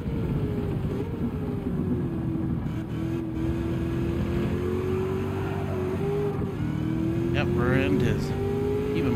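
A Mustang's engine roars steadily in Gran Turismo 7, running loud and continuous through a long pull, with rising revs and gear-change dips, and tire squeal near the end. A voice talks over it.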